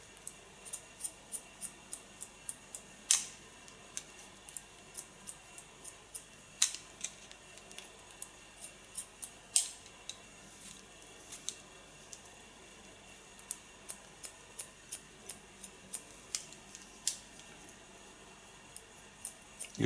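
Rapid, repeated small snips of scissors point cutting hair during a salon haircut, a steady stream of light clicks close to the ear with a few louder cuts scattered throughout.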